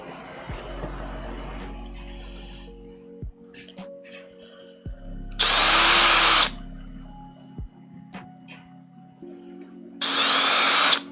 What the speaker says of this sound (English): I'm wondering if I should get 2 screws in here to get it started